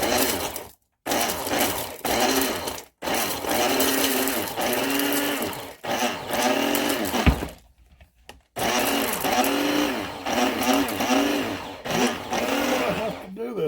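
A large blender whirs while chili oil is being made, grinding peppers in steady loud runs broken by a few short pauses, with a voice-like layer mixed in.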